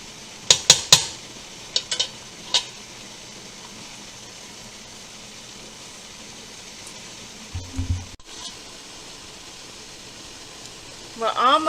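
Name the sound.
stirring jam in a pot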